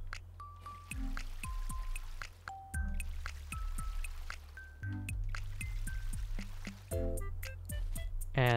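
Plants being watered in the video game Ooblets: a run of cartoonish dripping, squishy splash effects repeats in quick bursts over light, bouncy background music, with no one talking.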